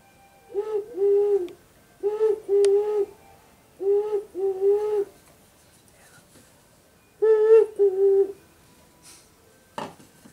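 Soft, hollow two-note calls from a clay whistle mimicking a dove's coo, repeated in four short bursts with pauses between, close and clear.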